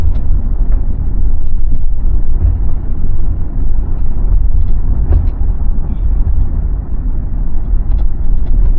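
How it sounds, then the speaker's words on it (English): An SUV towing a trailer accelerates hard on a paved road, giving a loud, steady, low engine-and-road rumble that holds throughout with no talk. "I just accelerated real hard."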